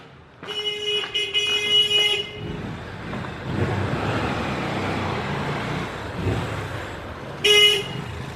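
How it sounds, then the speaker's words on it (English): A car horn beeps on a road beside a canal, sounding in two bursts at the start and end, over steady passing traffic noise. "Cars, when they approach, they tend to beep their horns."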